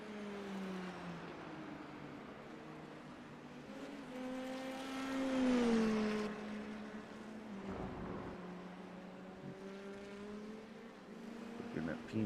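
IndyNXT open-wheel race cars in the iRacing game at Mt. Fuji drone steadily as the pack is passed, their engine tones sliding up and down through shifts, with a commentator talking over them throughout.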